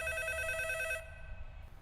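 A telephone ringing in a room, a sharp electronic warble repeating rapidly for about a second before cutting off, leaving low room noise.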